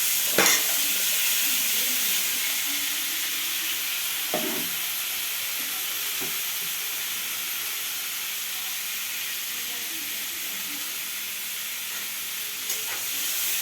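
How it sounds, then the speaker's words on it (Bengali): Steady sizzle of potatoes and vegetables frying in a pan, a broad hiss that runs throughout, with a few sharp clinks of a utensil stirring near the start and middle. "এই যে সব একসঙ্গে দিয়ে আমি ভাজছি"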